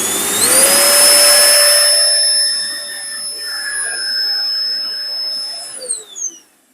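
An Electrolux Powerlite Z3319 1800W vacuum cleaner runs up to a loud, steady high-pitched whine close by. The pitch dips midway and then drops as it shuts off near the end.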